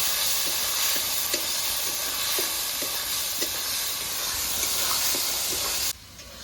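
Spices with salt and turmeric stir-fried in a pan for a meat curry, a steady loud sizzle with regular scraping strokes of a spatula, cutting off abruptly near the end.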